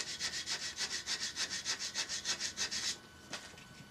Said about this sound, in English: And to really finish it off, scouring pad.